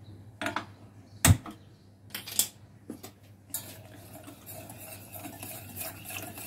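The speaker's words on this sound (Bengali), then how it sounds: "এবার এটাকে সমানে নাড়িয়ে দিতে হবে" A watermelon drink mixture being stirred in a pot on a gas stove, several sharp spoon clinks and scrapes against the metal at uneven intervals, then a softer continuous stirring rustle close by.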